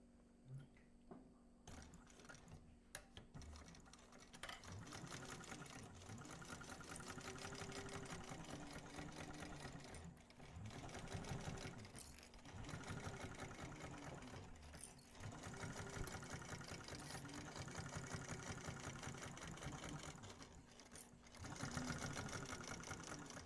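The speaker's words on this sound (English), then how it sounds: "we're going to sew that at the seam allowance on step 57" A sewing machine stitches a bag seam at seam length, running steadily with a dense mechanical whir and brief pauses and speed changes, close and loud throughout.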